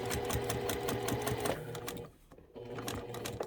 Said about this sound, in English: you'll notice my bouts of sewing get shorter the smaller the curve is